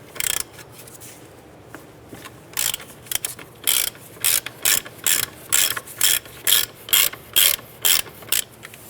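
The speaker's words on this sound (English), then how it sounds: "loosen this nut and take it off almost all the way, but don't remove it" A ratchet loosens the upper ball joint nut on a Jeep Grand Cherokee, giving a close, crisp series of regular clicking bursts that grows steady and rhythmic after a few hesitant strokes.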